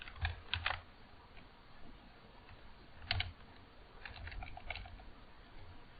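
Computer keyboard keys clicking during a penetration-testing session, including a Control X cut shortcut, with a few scattered taps and small clusters of keystrokes at close range in a quiet room.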